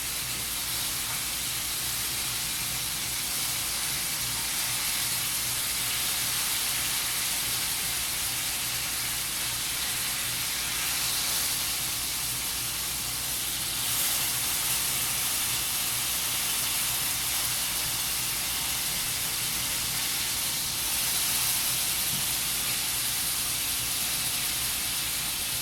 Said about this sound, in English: I want to give it a sear on the edges